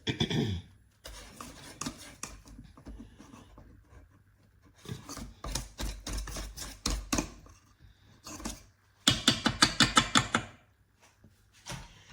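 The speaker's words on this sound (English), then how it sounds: "I'm just going to stir it by hand a little bit." A persimmon pudding mixture stirred by hand gives off irregular bursts of rubbing, rasping scrapes, close and moderately loud, separated by short pauses, with no voices.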